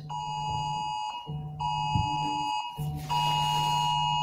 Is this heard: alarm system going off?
yes